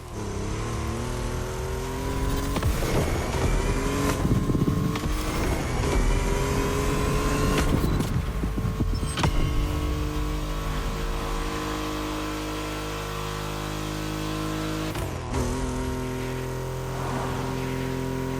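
A Mitsubishi EVO IX racing engine in The Crew Motorfest video game roars loudly and continuously, with rising revs, sharp gear shifts and brief drops in throttle over a long run, with no voices.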